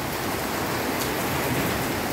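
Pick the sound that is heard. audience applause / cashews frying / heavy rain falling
heavy rain falling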